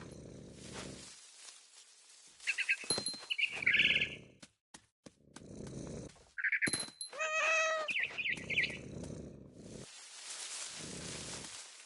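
A cat in a video game meows several times, short and high. The mewing and chirping calls come in clusters between quiet gaps, close and clear, with soft game ambience underneath.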